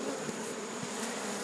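Honey bees buzz in an open hive, a steady, dense hum of many insects held at an even level close by, with no voices.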